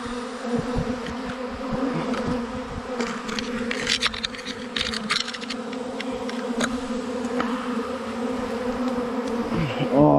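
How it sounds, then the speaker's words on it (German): A honeybee swarm being caught from a tree in May hums as a dense, steady buzz of many bees close by, continuous and fairly loud throughout, with no talking. "dass die Bienen sich da wieder sammeln"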